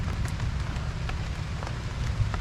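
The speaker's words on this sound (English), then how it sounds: "It's raining so hard." Heavy rain falls steadily in a Florida garden, making a dense, even hiss with scattered louder drops close by.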